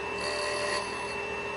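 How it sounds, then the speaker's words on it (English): A drill bit is ground on a CNC drill grinder, the bit moved left and right against the wheel, giving a steady close rasping, scraping hiss that holds evenly throughout with no voices. "Grind the drill by moving left and right until the noise stops"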